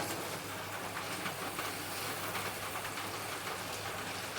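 Okra french fries frying in hot oil give off a steady, dense sizzle that holds at an even loudness from start to finish with no talking.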